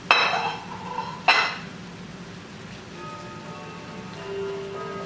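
Onion and peppers cook in a pan: two sharp clanks of a utensil against cookware open the sound, then a soft, steady sizzle carries on quietly.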